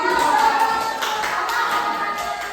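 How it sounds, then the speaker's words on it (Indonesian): A primary school class clapping hands in a classroom, a short burst of scattered claps from many children, moderately loud and mixed with some background voices. "Tepuk tangan, tepuk tangan"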